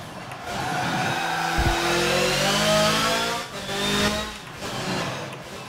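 A race car engine in the video game Forza Motorsport 7 revs and climbs through gears, a loud rising whine with shifting pitch and a brief dip before it pulls again.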